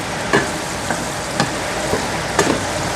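African eggplant frying with a little salt in a pan, stirred with a few soft scraping strokes roughly every half second over a steady close sizzle.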